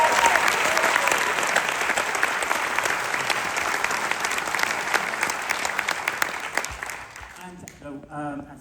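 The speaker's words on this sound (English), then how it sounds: "Next, I'd like to ask for a warm round of applause for the person who brings together all of the wonderful dance, sound and light." Sustained audience applause at a dance, sound and light production, dense and steady from a large crowd, fading out near the end as it gives way to quieter sound.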